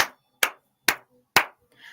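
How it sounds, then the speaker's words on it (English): Four sharp hand claps, close and evenly spaced about half a second apart, each cracking loudly and decaying quickly into silence, followed by faint rustling. "you can either clap like this"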